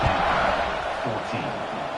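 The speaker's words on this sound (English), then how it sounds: "this crowd is buzzing after that last score" A football stadium crowd buzzing after a score, a dense, loud roar of many voices filling the space continuously, with a commentator's speech layered on top.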